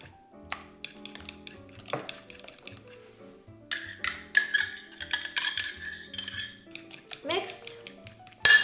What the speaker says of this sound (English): We just mix the egg with the sugar.